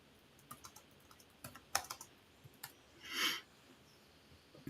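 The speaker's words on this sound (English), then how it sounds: "I'm typing, obviously." Quiet computer keyboard typing in a scattered, irregular rhythm: soft clicks and a few sharper keystrokes close by, with a brief louder rustle partway through.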